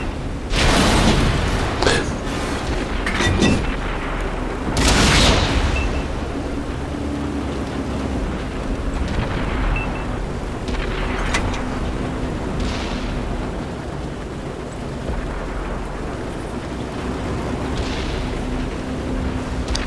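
Tank cannon fire in World of Tanks: a few heavy booming shots with rumbling tails over a constant engine drone, with someone commenting at low level.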